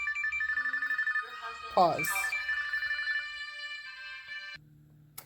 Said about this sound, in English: The watch rings and the phone rings.